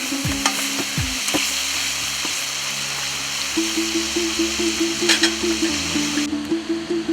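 Meat sizzling and crackling in a hot kazan cauldron, with a steady frying hiss, occasional scraping stirs and metallic clinks close by.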